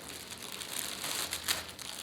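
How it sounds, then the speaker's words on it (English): Yarn packaging crinkles close up in a short burst of plastic rustling, swelling to a sharper crackle near the end, with no talking over it. "sorry for the crinkling"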